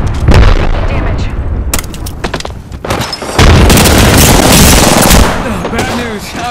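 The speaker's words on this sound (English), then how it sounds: "Look out, grenade!" In the Apex Legends video game, a grenade explosion produces loud, near booms mixed with bursts of rapid gunfire, forming a dense, chaotic battle din with a voice briefly heard.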